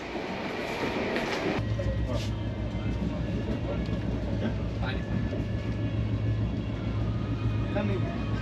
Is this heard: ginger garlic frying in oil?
no